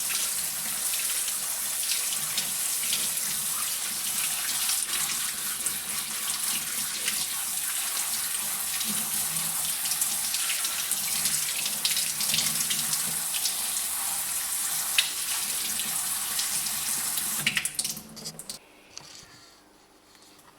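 Chickpeas rinsed under a running kitchen tap, with a steady, close hiss of flowing water that runs for most of the span, then cuts off near the end.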